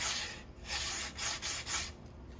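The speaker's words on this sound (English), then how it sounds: "now just we'll just sand it" Sandpaper rubbing back and forth along a smooth wooden curve on a reproduction Stickley No. 913 dresser, several rhythmic close strokes with no talking.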